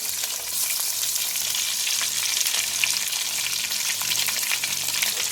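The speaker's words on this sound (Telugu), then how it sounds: "పచ్చిమిర్చి వేసుకొని ఫ్రై చేసుకోవాలి" Onion, tomato, green chilli and curry leaves frying in a little oil for Rayalaseema fish curry, a continuous close crackling sizzle with light stirring, steady and moderately loud with no talking.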